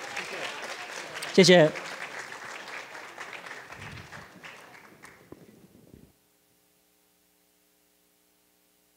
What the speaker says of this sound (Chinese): 如果没有的话，那我们再次掌声。